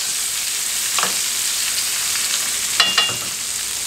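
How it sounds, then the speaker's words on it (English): Steaks frying in a pan with hot fat spooned over them, a constant close sizzle broken by a few sharp spoon-and-pan clinks, no talking. "we're just throwing that fat over our steaks"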